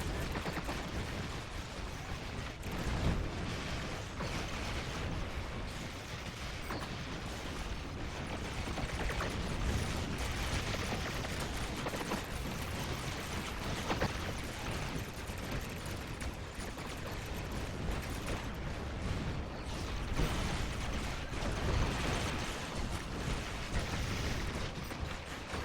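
Dense, sustained barrage of space-combat weapon fire and explosions while destroying enemy ships in the Star Trek Online Battle of Binary Stars elite task force operation, loud and continuous with no talk.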